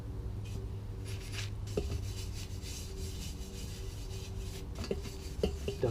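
Light hand scrubbing of a Suzuki RM 125 motorcycle part during a rebuild, soft repeated rubbing strokes with a few sharper scraping accents, close up against a low background hum.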